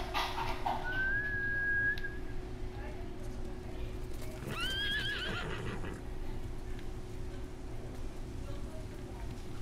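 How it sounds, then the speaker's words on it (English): Horses in the video game Ghost of Tsushima whinny twice, once in a rising call and again in a shorter burst, over a steady wash of rain and ambient noise, with faint hoof clatter. "Bastards scared off the horses."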